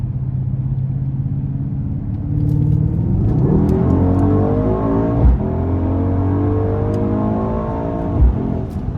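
A 2021 Mercedes-AMG GLS 63 SUV with a 4.0-litre twin-turbo V8 accelerates hard from inside the cabin, a deep rumbling engine note climbing in pitch through the gears, with brief dips at each upshift.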